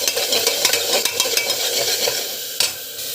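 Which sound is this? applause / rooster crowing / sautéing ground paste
sautéing ground paste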